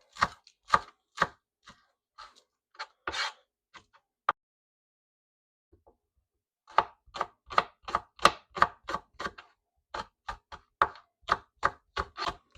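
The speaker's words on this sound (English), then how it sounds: "show you when I'm done chopping these" A knife chops onions on a cutting board in quick, sharp strokes, with rapid bursts of chopping broken by a few seconds of quiet before the rhythm picks up again. The sound is close and clear, with no talking.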